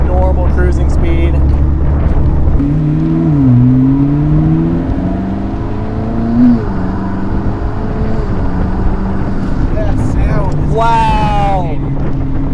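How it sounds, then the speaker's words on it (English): The turbocharged engine of a rebuilt used McLaren accelerating from cruising speed, a loud steady drone with tonal whines that rise and fall and a rising whistle near the end. "The turbo sound!"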